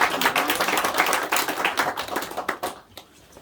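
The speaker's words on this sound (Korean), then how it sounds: "박수를 올려드리겠습니다" Close, fairly loud applause from a church congregation at a Sunday morning worship service, with sharp individual claps forming a quick, uneven patter that tapers off after about three seconds.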